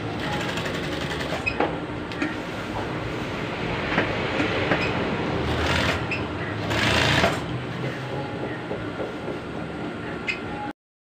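A sewing machine stitches around a pleated uniform skirt with a loud, continuous, fast clattering whir that rises briefly in places, with no talking, before it stops abruptly.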